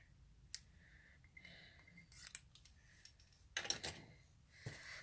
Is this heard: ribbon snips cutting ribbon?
yes